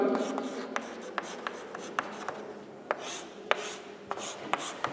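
Chalk or eraser scraping and rubbing across a lecture board, a string of short sharp strokes and taps, close and fairly clear, with faint room noise between.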